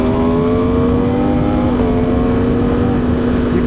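Ducati Panigale V4 SP2 motorcycle engine held high and steady, then a quick-shifter gear change dips the tone before it climbs again; loud and close, with no voices.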